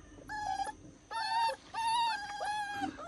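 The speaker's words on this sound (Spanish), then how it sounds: "¿Qué te parecen estas cachorras, Miriam?" Female puppies whimpering and whining in short high-pitched bursts, three or four drawn-out cries close by with brief pauses between them.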